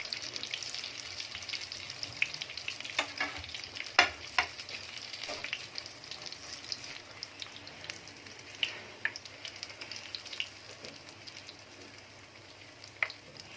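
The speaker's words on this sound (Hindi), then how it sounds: "ये फ्राई हो चुके हैं। अभी हम इसको निकाल लेते हैं।" Chicken and noodle kebabs fry in hot oil, a continuous close sizzle dotted with sharp pops and crackles throughout, growing slightly quieter toward the end.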